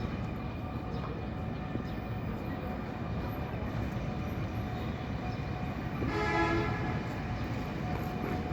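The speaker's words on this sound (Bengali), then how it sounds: "ট্রেন যাচ্ছে।" A metro train leaving a metro rail depot on a winter morning rumbles past steadily at moderate distance, with a brief tonal horn-like sound partway through; no talking.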